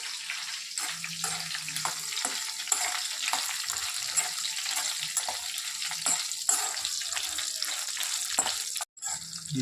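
Dry red chillies and fenugreek seeds fry in hot oil for a gongura chutney. They give a constant soft sizzle and crackle, with occasional scraping stirs, and no talking.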